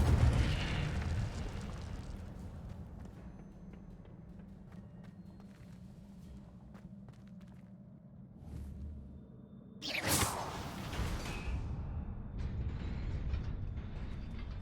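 Incendio fire spell cast in Hogwarts Legacy, a sudden loud whooshing burst of flame after a quiet stretch of low mechanical hum, then a crackling roar that lingers.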